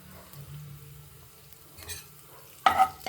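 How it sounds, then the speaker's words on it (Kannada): Cumin and mustard seeds hit hot oil in a pan, giving a soft low sizzle that swells into a sharp, louder crackle near the end, with no talking. "ಈಗ ಎಣ್ಣೆ ಕಾದಿದೆ ಮೊದಲಿಗೆ ಏನು ಮಾಡೋಣ ಒಂದು ಸ್ಪೂನು ಜೀರಿಗೆ ಒಂದು ಸ್ಪೂನು"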